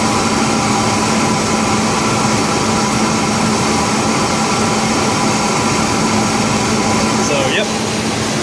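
2003 Ford Ranger 3.0L V6 with a high air flow filter, running steadily with a constant loud drone and a faint whine, nearly unchanged throughout.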